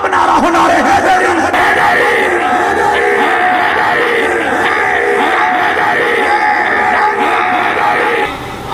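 Large crowd at an Urdu religious gathering of Quran recitation, naat and sermon loudly chanting a slogan in unison, a sustained roar of many voices with rhythmic rising shouts that hold steady close up for several seconds.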